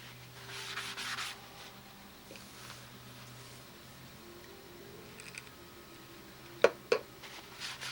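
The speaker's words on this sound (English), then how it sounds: "The sanding of this just becomes a 5-minute job." Quiet, steady rubbing of sandpaper with soft scratchy strokes on a glued joint of a model airplane wing, broken by a couple of sharp clicks near the end.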